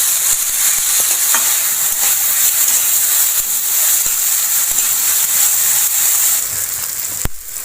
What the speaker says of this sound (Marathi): टोमॅटो पण छान परतून घेते।